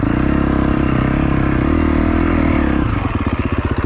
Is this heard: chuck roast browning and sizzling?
no